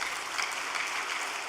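A big round of applause from an audience at a church gathering, dense steady clapping filling the room without pause, even and moderately loud for its short length.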